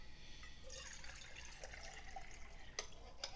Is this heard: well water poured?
yes